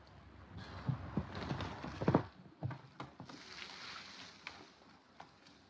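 Horse hooves clip-clop in an irregular series of thuds in an old black-and-white Western film, moderately close, over outdoor ambience.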